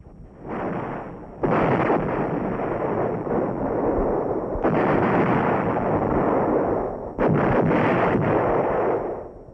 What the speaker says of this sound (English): the artillery begins its preparation fire on the LZ